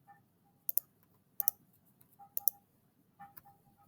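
Sharp isolated clicks from a computer keyboard and mouse sound in a quiet room, about four small clusters of crisp taps spaced roughly a second apart.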